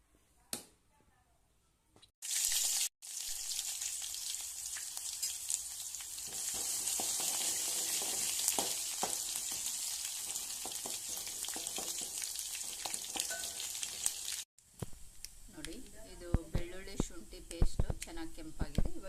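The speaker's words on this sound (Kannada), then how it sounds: "ಬೆಳ್ಳುಳ್ಳಿ ಶುಂಠಿ ಕರಿಬೇವು ಹಾಗೆನೇ ಸಾಸಿವೆ ಜೀರಿಗೆ ಒಗ್ಗರಣೆಯನ್ನು ಲಾಸ್ಟಲ್ಲಿ ಇದ್ರ ಮೇಲೆ ಹಾಕಿ ಮುಚ್ಚಿಟ್ಬಿಡೋಣ" Tempering of garlic, ginger, curry leaves, mustard seeds and cumin frying in hot oil for avarekai bajji, a loud, steady close sizzle after a few short bursts, then dropping to softer clatter with a voice speaking.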